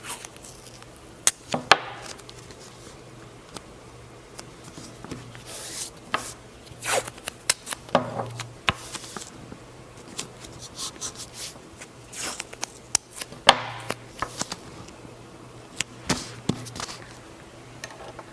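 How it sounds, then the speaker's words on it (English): Strips of tape pulled and pressed down to hold a paper stencil in place for screen printing, with repeated sharp tearing rips and rubbing scattered across a steady stretch of handling noise. "to prevent any shifting from happening while I trace the design, I am going to tape it down"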